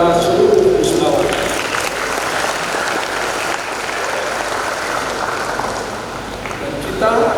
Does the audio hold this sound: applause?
yes